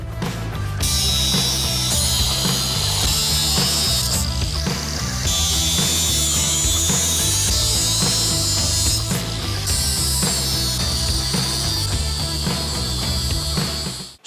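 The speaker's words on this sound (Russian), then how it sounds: "но их я отрежу уже болгаркой" Harsh, high-pitched angle grinder noise cutting steel on a forged Viking helmet runs almost nonstop, briefly dipping twice before continuing at full loudness.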